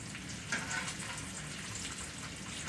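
Bacon sizzles and renders in a pan, a close, continuous crackling fry with small popping spikes throughout a brief moment.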